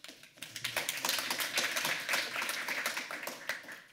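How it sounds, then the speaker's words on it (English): Scattered clapping from a talk audience greets a speaker being welcomed, a loose patter of hand claps at moderate volume with no one speaking. "And simultaneously, a warm applause for Angelina Kumar."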